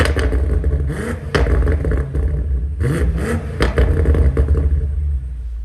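A BMW F90 M5 with a 600 horsepower engine starts at the push of a button and revs repeatedly, its deep rumbling exhaust rising and falling in loud, close blips against a continuous idle.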